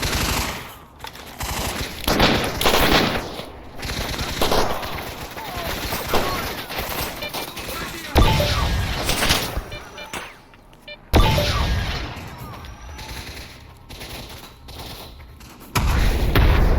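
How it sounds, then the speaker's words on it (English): Gunfire in the first-person shooter STALKER Anomaly, bursts of automatic shots and single cracks with booming impacts coming in clusters across the scene, loud and close, with a voice talking over parts of it. "this guy's gonna shoot me in the back of the head"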